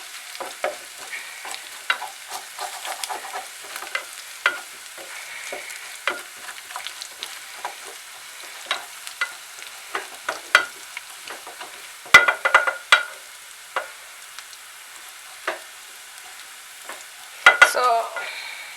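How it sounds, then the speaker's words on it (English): Pilau ingredients with raw cardamom seeds frying and browning in a pot, a soft background sizzle broken by frequent sharp clicks and scrapes of stirring, close up and without speech. "Cook them for some time till everything browns up."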